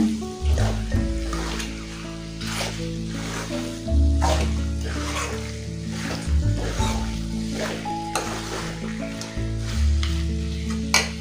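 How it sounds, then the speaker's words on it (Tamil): Chicken sautés and fries in a pan for a chicken gravy, with a steady close sizzle and repeated scraping stirs throughout. "ஒரு 2-3 நிமிஷம் பார்த்தீங்கன்னா இந்த சிக்கனை நல்லா வதக்கிக்கோங்க."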